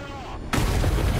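A coaxial 30mm cannon fires in a combat video game, suddenly bursting into loud, continuous, booming gunfire after a brief quieter stretch.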